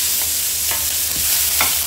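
Chopped tomatoes stirred into garlic already browning in hot oil in a pan give a steady close sizzle, with a few soft scrapes of a spoon at regular intervals.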